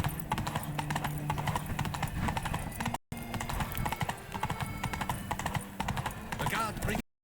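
Horse hooves galloping in The Witcher 3, a fast, steady clip-clop rhythm running throughout with a brief cut midway and a voice talking over it.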